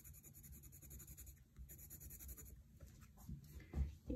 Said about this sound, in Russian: Розовым карандашом сейчас вношу сюда очередной слой.